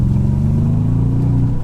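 A naturally aspirated 344 bhp Audi S4 V8 with a worn, beaten-up body gives a loud, steady, deep engine roar close by, sustained and unbroken for its full length with no talking.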